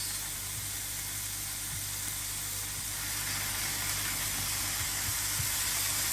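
Potatoes going into a hot pan for a potato, ham and pea tortilla give a steady, even sizzle and hiss that holds at moderate level, with no talk.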